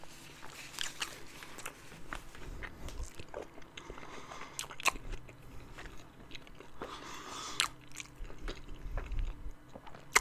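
Steak fajitas being chewed up close in an ASMR eating session: soft, irregular wet bites and crunchy chews with occasional sharper clicks, quiet and intimate with no talking.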